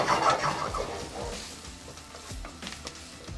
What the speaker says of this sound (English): So let's add our onions. Into the pan we go. And then we begin to saute.